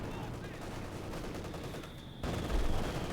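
Mortar fire in the strategy game Company of Heroes 2 thumps through a dense, faint battle din of gunfire, ending in a heavier burst of blasts.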